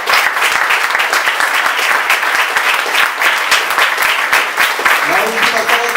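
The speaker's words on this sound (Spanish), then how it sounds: "Aplaudan al Señor." A church congregation applauds loudly and steadily for several seconds, dense crowd clapping that fills the room, with a voice speaking over the end.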